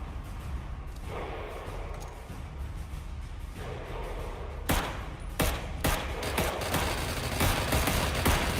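Video-game gunfire with a shotgun and a Gatling gun in the Star Atlas game, sharp repeated cracks and bursts growing denser over a steady rumbling background.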